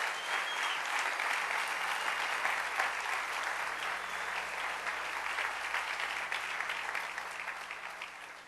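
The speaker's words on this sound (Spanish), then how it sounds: "denle un aplauso al Rey bendito" A church congregation applauds steadily during a sermon, a dense, even wash of many hands clapping at once, sustained without pause and fading slightly toward the end.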